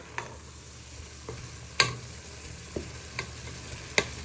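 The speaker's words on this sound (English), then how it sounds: "So you're giving them a good stir in with your mince" Onion and garlic cooked with beef mince in a frying pan for an Aussie meat pie give a soft, low sizzle broken by several sharp scrapes and taps of a spoon stirring, spaced irregularly.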